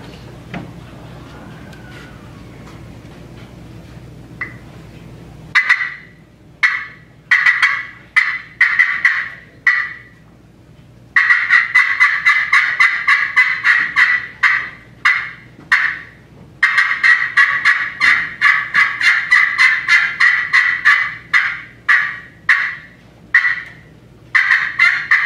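A friction turkey call is worked at a Vermont state calling contest to imitate an excited hen's yelp, giving sharp, rapid bursts of raspy notes in quick runs after a brief quiet start.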